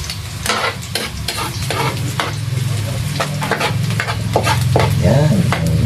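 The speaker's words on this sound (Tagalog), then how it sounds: "Ayan, igisa po natin sa mantika." Garlic sautéing in hot oil for clam adobo, a steady close sizzle with repeated stirring scrapes and clicks of a spatula against the pan.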